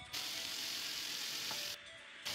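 Green chillies, curry leaves and chopped tomato sizzle in a pan, a steady hissing crackle that swells sharply at the start and drops off near the end.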